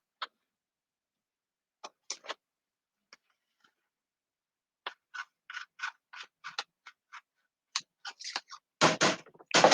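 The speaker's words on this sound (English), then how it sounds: "let me get my scissors and cut that" Scissors snipping label paper in a series of short, crisp cuts, sparse at first and then quicker, ending in a few louder rustling snips.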